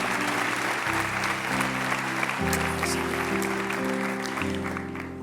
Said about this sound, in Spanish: Aplauda la gracia del Señor sobre nosotros.